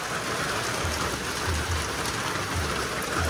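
Steady, dense rain pours down outdoors in the Philippines, a continuous loud hiss of drops with occasional heavier patters on a surface and no talking.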